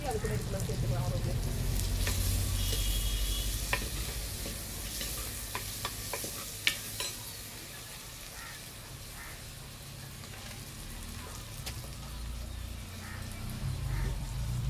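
Chopped onions and tomatoes sizzle steadily in a pan for a tamarind curry, with a continuous close frying hiss and occasional spoon scrapes as they are stirred; a voice may be faintly present.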